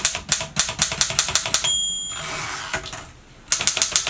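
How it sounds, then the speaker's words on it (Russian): An Erika M manual typewriter types with light, crisp keystrokes in a quick, even rhythm of sharp clacks, pausing for a moment while a bell-like ring sounds, then the clacking resumes up close. "И напоследок техника удара при печати. Машинка очень приятна в печати, знаменитый эриковский ход клавиш здесь во всей красе."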